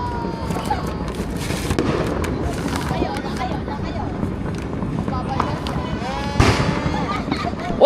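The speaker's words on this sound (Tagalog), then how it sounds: "Oy, fireworks, oh, fireworks!" New Year fireworks going off in repeated pops and crackles of varying distance amid an excited crowd, with people shouting and talking throughout.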